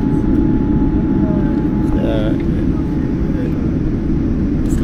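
A Boeing 787 Dreamliner airliner taxis on a short domestic flight in China, its engines making a steady, loud low roar heard from inside the cabin, with a faint voice in the background.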